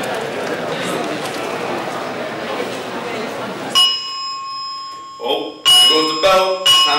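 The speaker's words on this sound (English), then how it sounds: "bell. Time for me to go." A bell rings in a series of sharp, bright metallic strikes after a stretch of noisy background, the rings close and repeated in quick bursts toward the end.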